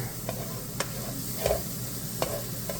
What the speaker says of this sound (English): My onions are starting to sweat down here nicely.